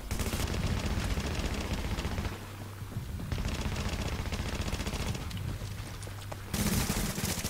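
Sustained automatic gunfire in the online shooter The Division, dense and steady rattling volleys that pause briefly and resume, heard alone without talk.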